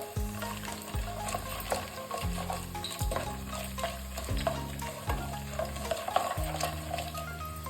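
Mustard seeds crackle and sizzle in hot oil with fried chana dal and peanuts for moong dal uppittu, a steady frying hiss broken by repeated rhythmic scraping of a stirring spoon against the pan.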